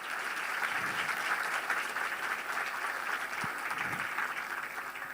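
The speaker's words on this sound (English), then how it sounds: "Can we have a round of applause for that?" An audience applauds at an institutional foundation day celebration, a dense, steady wash of many hands clapping that stays loud for the full stretch.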